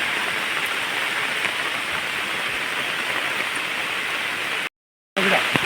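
Rain drums steadily on plastic sheeting outdoors, a dense even hiss that continues unbroken before a short gap and resumes with a faint voice.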